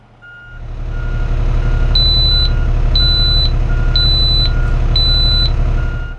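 A truck reversing alarm fitted with a radar sensor sounds a loud, evenly spaced series of beeps, about one per second, over a steady idling engine rumble, with no one speaking.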